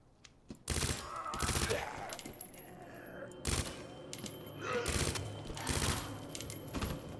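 Gunshots from a weapon in the Resident Evil 2 remake, a few loud separate bursts spaced a second or two apart, with game sounds in between.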